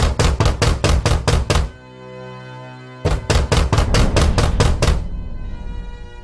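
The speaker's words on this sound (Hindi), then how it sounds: "तभी कोई जोर से उस कमरे का दरवाजा खटखटाने लगा।" Loud knocking on a room door comes in two rapid bursts of about seven sharp raps each, separated by a short pause, followed by a fading, reverberant tail.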